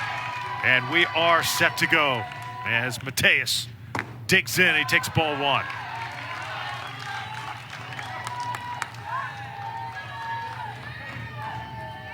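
Crowd noise in the stands at a Little League baseball regional game at Warner Robins, with scattered cheers, shouts and claps under an announcer's commentary, building to louder bursts before settling into a steady murmur.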